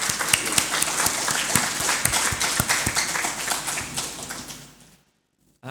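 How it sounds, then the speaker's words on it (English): Audience applause at an entrepreneurship seminar: dense, steady clapping from a room full of people for about five seconds, then cutting off to near silence before a brief return at the very end. "let's give a great round of applause for the three of them"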